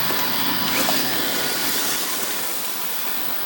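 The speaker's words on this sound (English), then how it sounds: "got the trusty aircon on, of course" An air conditioner runs inside an apartment, giving a steady broadband hiss and whoosh that stays fairly loud and constant throughout with no voices.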